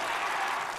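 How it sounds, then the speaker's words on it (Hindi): Brief burst of steady, dense applause from a crowd watching North Korean commando stunts, loud and continuous with no pauses. "ये देखकर किम जोंग उन फूला नहीं समाता और तालियां बजाकर अपनी कमांडो फोर्स की तारीफ करता है।"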